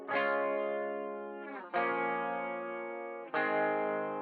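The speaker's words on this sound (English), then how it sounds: "The only other thing that I want to really focus in on right here is these two guitars, because they're a different tone." Two electric guitars with different effect-laden tones, chorus, distortion and echo, play sustained chords inside a full song mix, struck in three long ringing swells with no talking.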